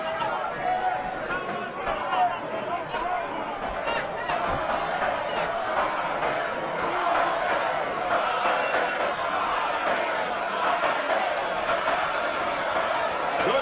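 A boxing arena crowd of Mexican and Filipino fans at Pacquiao vs Marquez keeps up a steady, dense roar of chatter and shouts throughout, with a voice speaking over it.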